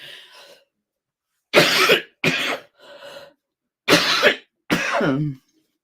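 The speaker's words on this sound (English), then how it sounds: "while I'm having this coughing fit" A person coughs in several harsh bursts, close by, with short pauses between them and a softer breathy sound early on.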